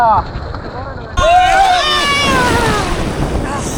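Large ocean waves surge and break at Cox's Bazar beach, a steady roar of surf under gusty wind buffeting the microphone, with a sudden louder swell partway through and people's voices mixed in.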